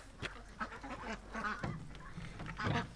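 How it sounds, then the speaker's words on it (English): Ducks quack in a noisy, overlapping chorus at a moderate distance, with honking calls rising and falling throughout. "there's the ducks going"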